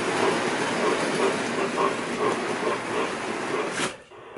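An OO gauge model train running along its track, giving a steady close rattling rumble with faint rhythmic clicks that drops away suddenly near the end.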